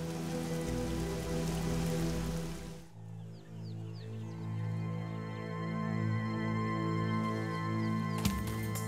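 Rain falls in the African bush, a steady continuous patter at moderate level with a brief dip partway through, mixed with sustained tonal sounds.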